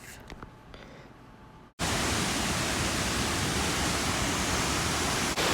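A glacier-fed waterfall roars in a steady, loud, broadband rush that cuts in abruptly after a quieter opening and continues without a break.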